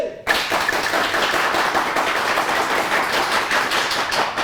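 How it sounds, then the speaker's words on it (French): A studio audience bursts into applause all at once, a dense, steady wash of many hands clapping close by that continues without a break to the end. "merci pour les applaudissements"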